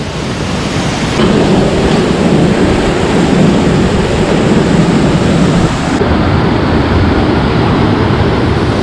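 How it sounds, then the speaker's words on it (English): A jungle waterfall on a trek pours down in a loud, continuous rushing roar that fills the scene evenly, with no voices over it. "Another waterfall."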